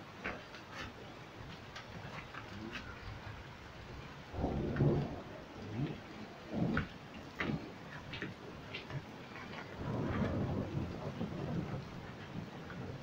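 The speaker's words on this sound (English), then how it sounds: "Hail big like a golf ball." Hailstorm over part of Calgary, Alberta, with hail as big as golf balls: steady rain and pattering on surfaces, interrupted by several rumbling thunder-like bursts of impact noise, some sharp ticks heard throughout.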